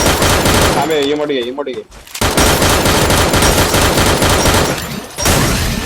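Loud, rapid automatic gunfire in the mobile battle royale video game Free Fire, with sustained bursts and a brief pause partway through, while a player talks over the shooting.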